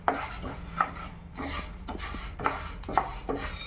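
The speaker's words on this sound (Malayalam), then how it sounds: "നമ്മൾ ഈ മുതിര എടുത്തിട്ട് നന്നായിട്ട് വറുത്തെടുക്കാം" Horse gram roasts in a pan while being stirred, giving repeated clinks and scrapes of utensil on metal at an irregular rhythm, close and moderately loud.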